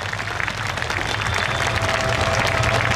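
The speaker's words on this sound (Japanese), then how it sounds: "たくさんのね、拍手いただきました" Audience applause at a festival main stage after a folk song performance, a dense steady wash of clapping filling the space throughout, loud and close, with no talking over it.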